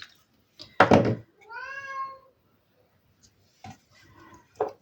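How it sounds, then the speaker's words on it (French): A domestic cat wanting to go outside gives a loud, short meow followed by a longer, drawn-out wavering meow, with a few soft knocks and faint sounds after, close by and indoors. "Mon chat qui est mignon, il veut sortir."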